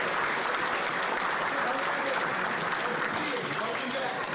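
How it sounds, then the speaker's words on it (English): A luncheon audience applauds with a steady, dense wash of clapping that holds at even loudness from start to finish. "A big round of applause for all of them."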